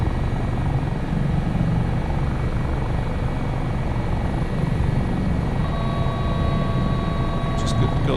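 Simulated HH-65 Dolphin Coast Guard helicopter in Microsoft Flight Simulator 2024, flying nose-down to gain speed over Valdez, Alaska, with a loud, continuous rotor and turbine drone that holds steady throughout.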